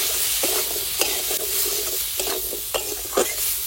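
Vegetables stirred and fried in a pan with salt and turmeric, a loud close sizzle broken by repeated scraping strokes of a spatula every half second or so, no voices.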